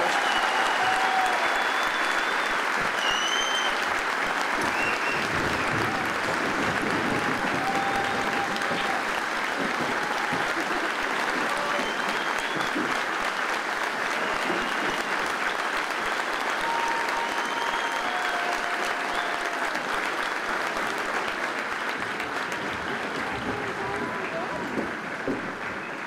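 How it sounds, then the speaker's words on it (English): Long, sustained crowd applause at a Fort Jackson Army basic combat training graduation, honoring the drill sergeants; dense, even clapping from a large audience with scattered whistles and voices mixed in throughout. "could we please have a round of applause for the drill sergeants who have led these basic training graduates?"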